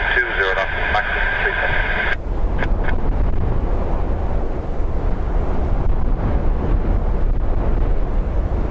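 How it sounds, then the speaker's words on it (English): Heavy wind gusts from Storm Éowyn at Dublin Airport batter the microphone in a loud, continuous low rumble. A radio transmission crackles briefly at the start before the gusts take over. "Very heavy gusts there now, as you can see, hitting me."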